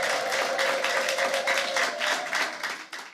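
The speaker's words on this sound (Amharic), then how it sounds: "በደንብ ለጌታ ክብር አጨብጭቡ" A church congregation claps and applauds in praise, dense rhythmic clapping from many hands, loud and close, fading at the end.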